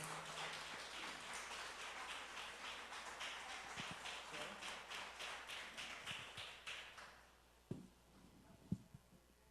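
A church congregation gives a big round of applause to the Lord. Dense, steady clapping fills most of the stretch, then thins out into a few scattered claps, all fairly faint and distant.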